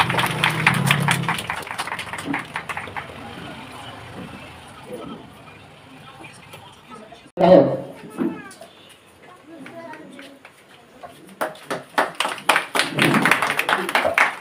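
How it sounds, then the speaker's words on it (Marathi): Clapping from a crowd at a Bhim Jayanti gathering in Malyan, Alibag, rapid hand claps at the start and swelling again near the end, with voices and outdoor noise in between. "टाळ्या झाल्या सगळ्यांनी."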